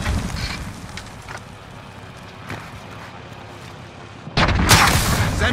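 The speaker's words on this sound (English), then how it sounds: "Sending rocket." Rocket strike in Call of Duty Modern Warfare: a rumbling, windy battlefield background followed by a sudden loud blast that bursts in near the end and stays heavy.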